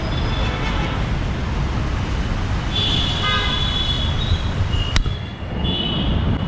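Busy city street traffic in Hyderabad rumbles steadily with engine noise, while several car horns toot in short bursts partway through, close by and loud.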